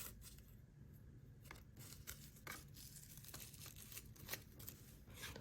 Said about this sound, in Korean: 노란 카네이션도 꽂았을 때 높지 않게 잘라줍니다